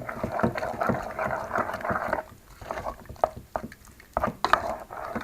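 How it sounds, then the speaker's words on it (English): A spoon stirring and scraping through a thick fruit cake mixture in a bowl, with irregular clinks and soft thuds at close range, fairly quiet and uneven in rhythm. "Mix it, give it a stir."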